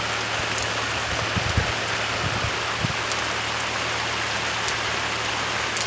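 Steady, dense rain pours down, a broad continuous hiss with occasional heavier drops spattering nearby; no voices.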